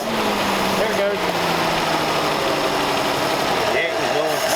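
A 1939 Ford convertible engine runs loudly and steadily close by, with a rough, uneven idle. Someone talks over it.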